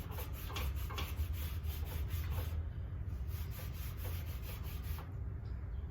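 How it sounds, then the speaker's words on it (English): A rag rubs caked-on grease off a recteq Bullseye grill in repeated back-and-forth strokes, a quiet, steady scrubbing with a regular rhythm and no talking. "it's going to take a little bit of rubbing, it looks like, here to get this off"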